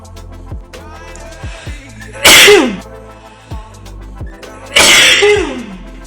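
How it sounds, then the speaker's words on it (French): Two loud sneezes a few seconds apart, each a sharp burst from one person at close range, with quiet room sound and faint low hum in between. "Je vais éternuer."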